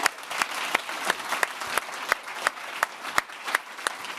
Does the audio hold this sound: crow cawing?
no